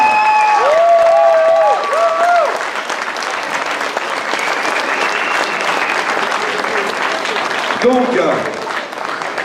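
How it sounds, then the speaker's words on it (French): Audience at a gastronomy fair contest in Le Mée-sur-Seine applauding two young contestants, loud sustained clapping that rises after someone speaks over it at the start, with brief talk returning near the end. "Donc on applaudit comme il se doit Lilou et Lisha."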